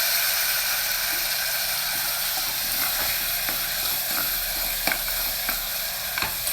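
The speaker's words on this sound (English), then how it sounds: "Just stir fry it for a couple of minutes." Boiled kala chana and curry leaves being stir fried in a pan, a steady loud sizzle with intermittent scraping clicks from stirring, close up and without voices.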